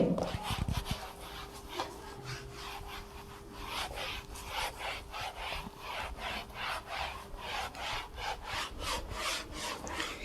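An eraser rubs writing off a classroom board during a maths lesson, a close, steady run of rhythmic back-and-forth scrubbing strokes that continues throughout.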